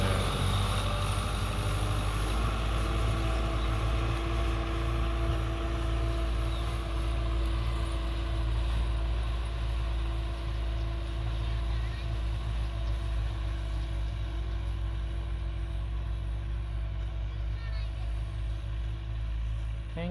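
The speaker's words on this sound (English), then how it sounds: "Modified tractor." A modified tractor engine runs steadily in a field, a continuous loud low rumble with a constant drone and harmonic whine lasting throughout, with no pauses.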